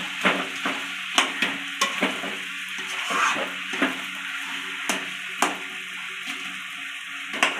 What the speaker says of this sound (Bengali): মুড়োগুলো দিয়ে খুব ভালো করে নাড়াচাড়া করে নেব